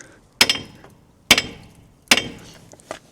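Three sharp, ringing metal hammer taps strike a seized part on a Nissan Qashqai during a front disc change, spaced about a second apart, loud and close, each with a brief metallic decay.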